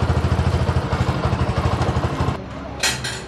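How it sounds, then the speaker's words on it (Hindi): A Bajaj V15 motorcycle engine runs after starting, throbbing in a steady rapid low pulse for about two seconds before it cuts out, leaving fainter noise and a brief hiss. "बाइक स्टार्ट हो गया"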